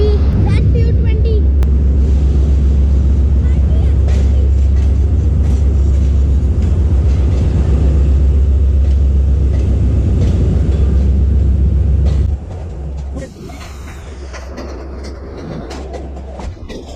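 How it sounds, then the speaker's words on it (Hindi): The Awam Express train rolls into a station on the Lahore to Taxila route, a loud continuous rumble with clattering that drops away abruptly near the end, while voices and platform bustle come through over it. "अच्छा, वहाँ आ गई एक्सप्रेस"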